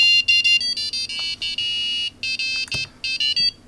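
A buzzer driven by an ESP32-C3 Mini board beeps out the Super Mario melody in quick, bouncy short electronic tones, with brief gaps between phrases.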